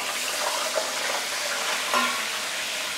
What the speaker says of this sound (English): make sure the oil started to smoke before you put in the fish